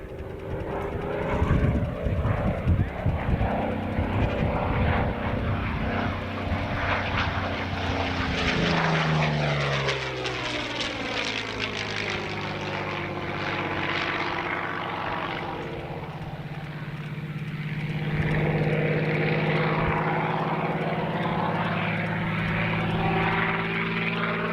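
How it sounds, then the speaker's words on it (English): A P-40N Warhawk with an Allison D-12 engine roars past at an airshow, its deep propeller drone rising and sweeping in pitch as the fighter flies by and rolls, loud and continuous throughout with no talk. "the Allison D-12 you hear before you is from Ace Allison, based in Latrobe, Pennsylvania"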